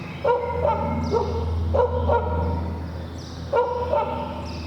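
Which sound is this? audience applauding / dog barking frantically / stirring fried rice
dog barking frantically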